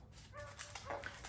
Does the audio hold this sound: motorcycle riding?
no